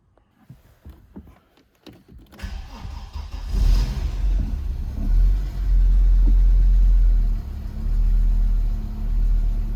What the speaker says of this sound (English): that's a start from cold